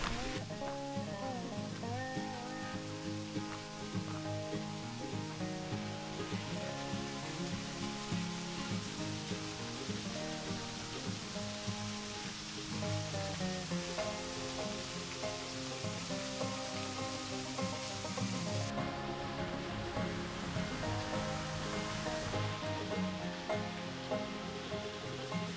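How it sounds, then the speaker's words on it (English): A small waterfall in a creek on a nature trail in fall with lower water flow, giving a continuous broadband rushing and splashing wash that holds steady throughout, fairly close, without voices. "I can hear the waterfall."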